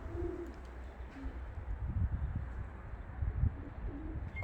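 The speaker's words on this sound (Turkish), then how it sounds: "Kuşlar kendi keyfine çıkıyor, giriyor." Soft pigeon cooing in a low murmur in a coop, several birds calling over a steady background hum, with a faint chirp now and then.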